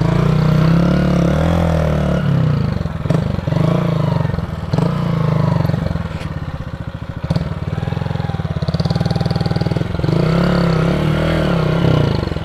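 A motorcycle engine runs steadily up close, its low rumble shifting pitch as the rider eases along, with a few brief clatters over the ride.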